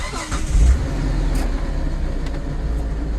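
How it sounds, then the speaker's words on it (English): A 2006 Hyundai Santa Fe's 3.5 V6, suffering intermittent limp mode, cranks briefly and catches, then settles into a steady low idle rumble that stays loud and close throughout. "if we crank it back up,"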